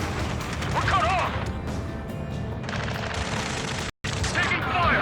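Gunfire and crashing battle noise in Ace Combat 7 during a rescue mission, dense and continuous for several seconds with a brief dropout near the end, and radio voices talking over the combat.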